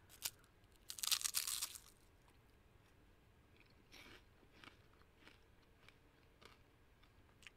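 A very light, hollow, flaky Japanese sesame soy sauce flavored snack from a Thai snack box is bitten with one sharp, close crunch, then a few softer chewing crackles follow quietly.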